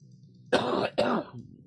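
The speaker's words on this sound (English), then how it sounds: "There's the cough." Two quick, close coughs in succession, harsh and throaty, with quiet before and after.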